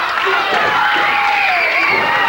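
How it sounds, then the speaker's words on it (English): A wrestling crowd cheers loudly and continuously in an arena, with a dense roar of shouting voices and whoops while a commentator talks over it. "Tommy asking for the crowd support, and he gets it instantly."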